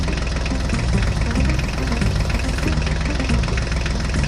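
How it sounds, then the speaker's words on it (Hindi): A tractor engine runs steadily and loudly up close, a continuous low rumble with a faint knocking pulse and no voices. "अब ट्रैक्टर गाड़ी को आगे लेकर चलो"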